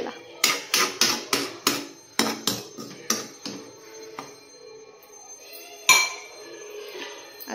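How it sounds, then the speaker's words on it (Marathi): Metal clinks ring out from a cooking pot of palak paneer spices on a low gas flame, first a rapid rhythmic series of bright taps, then a single louder clank as the lid is set down, with faint ringing after. "आता इथे झाकण देऊन ठेवूया."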